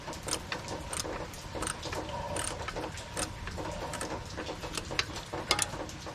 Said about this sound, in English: Just put my finger on the socket to hold it when I ratchet it.